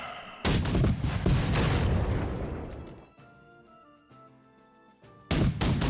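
Cannon fire in the Napoleonic strategy video game Victory & Glory: Napoleon, two heavy booming blasts with long rumbling decay, separated by a lull of faint tonal game music, loud and close.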